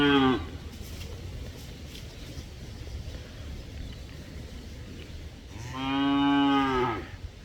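Beef cattle on a farm moo twice, one long low call at the start and another loud, close moo near the end, with quiet outdoor background between.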